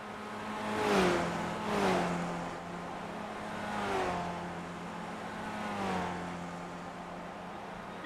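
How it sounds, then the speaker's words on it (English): A damaged race car engine in a racing game runs rough, with uneven rising and falling revs and a strained, wavering drone that never settles into a clean pitch. "There is something wrong with that car."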